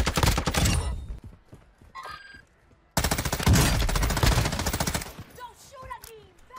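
Warzone 2 Season 3 Reloaded gunfight: two loud bursts of rapid automatic fire, the first short, then after a pause a longer rattling stream, followed by scattered faint game sounds.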